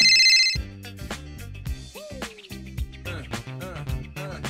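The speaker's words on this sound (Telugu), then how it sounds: "మా మంజుల ఫోన్ చేస్తాను." A telephone rings on an outgoing call in a comedy short film, sounding under a loud burst of music with bell-like chimes at the start, then continuing beneath busy musical tones.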